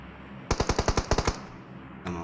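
Automatic rifle fire in a PUBG match on the Erangel map, a rapid burst of about eight to ten loud sharp shots close by, followed by a brief pause and a fainter rising noise.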